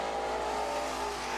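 Race cars roar four wide on a dirt track, a loud, steady engine drone with a sustained high whine that holds close and continuous without a break.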